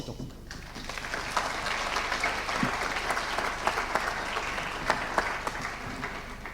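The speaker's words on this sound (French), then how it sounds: "ce que je propose, c'est de les applaudir en les félicitant" An audience at a biodiversity engagement certificate ceremony applauds award recipients, steady sustained clapping from many hands throughout, moderately distant in a hall.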